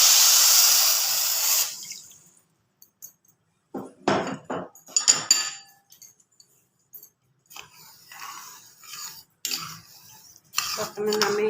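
Water pours into a pan of sugar for malpua syrup in a home kitchen, a steady rush lasting about two seconds, followed by scattered clinks of utensils and pots.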